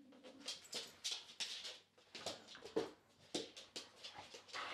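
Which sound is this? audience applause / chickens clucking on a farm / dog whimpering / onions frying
dog whimpering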